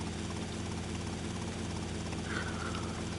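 The Sparrow helicopter in GTA Vice City: The Definitive Edition gives a steady, faint rotor and engine drone, continuous and even, with no voices over it.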